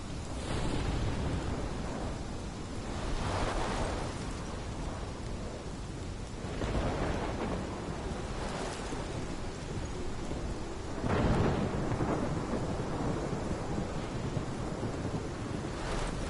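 A thunderstorm with heavy rain in the video game Life is Strange: constant loud rainfall with several deep rolling thunder rumbles swelling at intervals, no voices.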